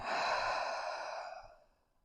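A single deep, slow exhale during a yoga breathing exercise, close and breathy, fading out over about two seconds into quiet.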